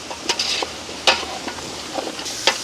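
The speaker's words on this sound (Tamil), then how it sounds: "இது கொஞ்சம் வேகமாக வதங்குறதுக்காக நான் என்ன செய்ய போகிறேன்டா கொஞ்சமாக உப்பு சேர்க்க போகிறேன் அப்படியே கலந்து விடுவேன்" Chilies and salt are stirred and sautéed in a pan, with a soft sizzle under scattered scraping strokes of a spoon against the metal, close and fairly loud, with no voices.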